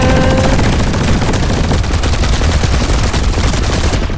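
Guns fired into the sky, a loud, sustained volley of overlapping shots crackling without pause for several seconds.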